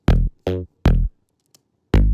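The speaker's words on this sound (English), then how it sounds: "I think it sounds like when you have a rubber band, you know, and you pluck the rubber band." Snappy Serum synth plucks with a twangy rubber-band quality sound four times in an uneven pattern, a tight cluster of three then a pause before the last, loud and dry with nothing else around.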